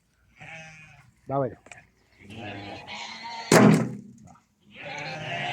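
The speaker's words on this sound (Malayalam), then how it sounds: "ഇവിടെ എത്തി ആടുകളൊക്കെ കരയിൽ തുടങ്ങി." Goats at a farm bleating in several short wavering cries, close and loud, with a sharp knock partway through and someone speaking between the calls.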